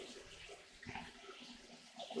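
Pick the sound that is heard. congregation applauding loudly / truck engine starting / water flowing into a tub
water flowing into a tub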